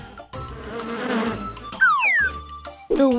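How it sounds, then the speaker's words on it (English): A bee buzzes in a kids' bug vocabulary segment, a close whining drone sliding in pitch with sharp rising and falling sweeps, fading and returning in short loud bursts with no talk. "Bee."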